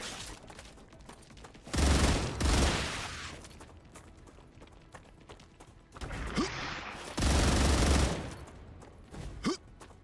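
Gunfire in the game StarRupture comes in two loud bursts of rapid shots, each lasting about a second, separated by quieter stretches of ambient game noise and mechanical clicks.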